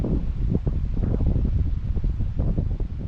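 Steady outdoor wind gusts and rumbles against the microphone at a natural fishing spot by the water, loud and continuous with no voices.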